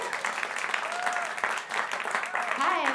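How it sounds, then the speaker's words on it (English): An indoor audience applauds a band at an open music session, dense clapping for about three seconds with a few whoops and voices mixed in. "So one round of applause"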